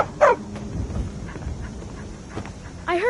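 A dog in a 2011 video game gives a few short yips and barks, near and moderately loud, set against a busy background of game ambience.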